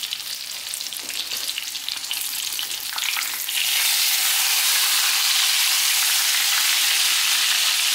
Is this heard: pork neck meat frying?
yes